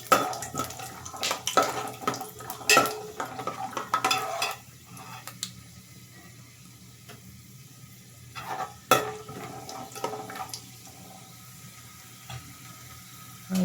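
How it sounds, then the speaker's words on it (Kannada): Peanuts tossed into hot oil in a pan while making puliyogare, irregular rattling and stirring clatters with bursts of sizzle, quieting midway before more scraping and a few sharp knocks. "ಈಗ ಎಣ್ಣೆ ಕಾಯ್ದಿದೆ, ಸೊ ಅದಕ್ಕೆ ನಾನು ಕಡಲೆ ಬೀಜ ಆ್ಯಡ್ ಮಾಡ್ತಾಯಿದ್ದೀನಿ"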